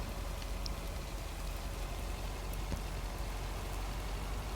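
Steady rain falls on a road in the video game Lake, an even, dense patter of drops heard up close without pause or voices.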